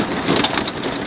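Pea-size hail falling outdoors at an Airstream trailer rally, pelting and bouncing off a barbecue grill in a dense, loud, continuous patter with no voices.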